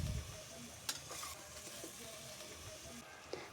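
Sheep head meat frying in hot oil, a steady close sizzle with stirring scrapes and a couple of sharp clicks from the pan.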